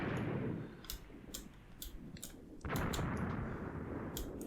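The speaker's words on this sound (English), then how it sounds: "you're taking heavy fire from something as well" Heavy gunfire in the Graviteam Tactics war game: sharp shots crack out in an uneven series over a low rumble. The bursts sound fairly faint and distant.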